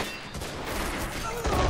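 Gunfire in the World War II strategy game Men of War Assault Squad 2, a dense burst of overlapping shots crackling rapidly over a short span, with a heavier thump near the end.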